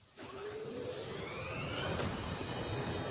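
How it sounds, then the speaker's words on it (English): A starship's hyperdrive spools up in a video game, a steady airy engine roar with rising whine tones sweeping upward over a few seconds, close and continuous. "Spooling up the hyperdrive."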